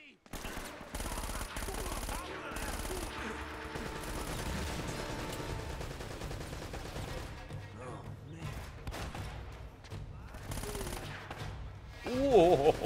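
Gunfire in the Uncharted: Drake's Fortune video game crackles in long bursts of rapid automatic shots with scattered impacts, steady and fairly loud, as a player talks briefly over the action.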